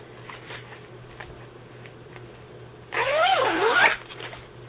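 One quick zipper pull on a stamped cross stitch tote bag, a loud rasping zip lasting about a second after a quiet stretch of faint handling sounds.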